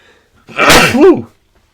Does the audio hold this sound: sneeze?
yes